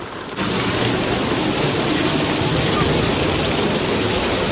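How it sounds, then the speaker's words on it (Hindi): Heavy rain pouring down at Har Ki Pauri in Haridwar, a loud, steady broadband hiss that swells in after a brief quieter opening and holds evenly to the end, with no voices. "हर की पौड़ी पर भी वही बारिश हो रही है"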